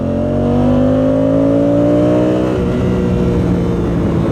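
A Honda Africa Twin touring motorcycle engine revs up loudly and close, its pitch climbing steadily for about two and a half seconds before the note drops and settles into a rougher running sound.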